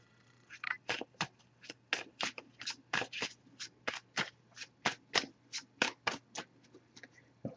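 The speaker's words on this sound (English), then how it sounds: "I'm going to give it a few more shuffles now." Oracle cards being shuffled in a steady run of crisp riffling bursts, close and fairly quiet, with a low hum underneath.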